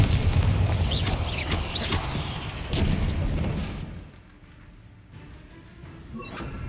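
Explosion spells from Hogwarts Legacy blast one after another, heavy booming bursts with crackling debris and magical whooshes that loud through the opening seconds, then fade into quieter game ambience with a few sparkling pops.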